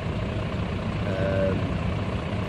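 HGV truck engine running before a road test, a loud, steady low rumble throughout with faint talk underneath.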